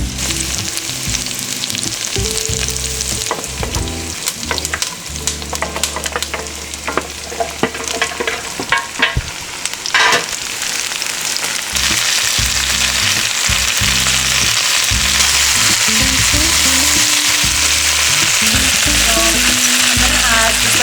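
Food caramelizing in a frying pan, most likely ahead of a lamb and broth dish, sizzles loudly and steadily for the whole stretch, with occasional scrapes and stirs over the constant hiss.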